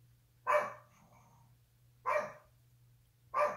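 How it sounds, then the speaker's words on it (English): Three sharp dog barks spaced a second or more apart, moderately close, over a quiet room with a low electrical hum. "Sorry about the barking."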